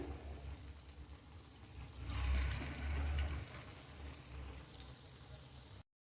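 Cucumber pakoras fry in hot oil with a steady, close hiss and sizzle that swells a little partway through, then cuts off abruptly.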